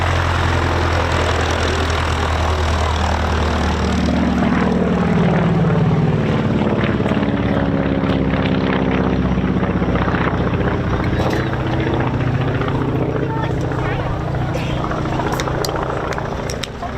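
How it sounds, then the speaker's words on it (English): Aircraft piston engine running at taxi, loud and close, with the rhythmic puffing of one cylinder's short exhaust stack every second rotation over a steady propeller drone, at an airshow taxi run. "Every second rotation you hear a puff of that one cylinder with its short exhaust"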